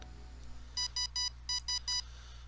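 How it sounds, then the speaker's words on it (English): A phone alarm in a visual novel goes off as six short, loud electronic beeps in two groups of three, sharp and clear over a quiet background hum. "My phone alarm blares and wakes me up bright and early."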